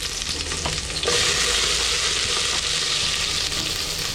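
Garlic and onion fry in a little oil with a steady close sizzle, growing louder and denser after the first second, with occasional stirring scrapes and no voices.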